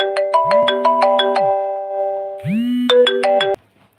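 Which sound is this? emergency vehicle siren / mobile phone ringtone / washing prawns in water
mobile phone ringtone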